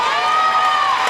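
A gym crowd at a girls' volleyball senior night claps and cheers in a steady, dense wash of applause that holds at full volume for the whole moment.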